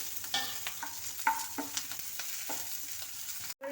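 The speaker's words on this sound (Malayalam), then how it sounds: "ഉള്ളിയും കൂടെ ഇട്ട് വഴറ്റിക്കൊണ്ടിരിക്കുകയാണ്" Onion sautés in hot oil with mustard seeds, giving a close, steady sizzle broken by a few scrapes as a spoon stirs it, ending in a brief silence.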